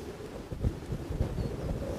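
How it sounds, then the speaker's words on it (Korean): Strong wind buffeting the microphone outdoors, a continuous low rumbling roar with gusty surges throughout, loud and close with no voices. "바람이 많이 불어"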